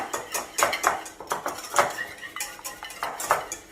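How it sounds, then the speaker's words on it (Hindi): A utensil stirs vanilla cake batter with powdered sugar in a bowl, giving close, quick, irregular clinks and scrapes against the bowl, with no voices. "और अब इसे मिक्स करेंगे, अच्छे से मिक्स करेंगे इसे, कहीं भी इसके गुठलियां ना बने"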